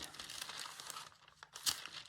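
Scissors cut through thick linen fabric close by, giving a faint, crisp crunching and tearing texture with a sharper snip near the end.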